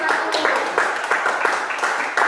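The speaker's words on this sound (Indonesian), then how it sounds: "Berikan tepuk tangan untuk kelompok 1." A classroom of pupils in a multi-grade lesson claps for group 1: a dense, fairly loud patter of many hands with a rhythmic pulsing swell, voices mixed in underneath.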